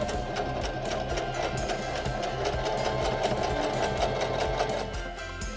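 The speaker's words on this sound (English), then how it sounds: "we're ready to sew the rest of our flat fell seam" SINGER denim sewing machine stitching a flat fell seam on denim, a steady, rapid mechanical needle clatter running continuously at close range, easing slightly near the end.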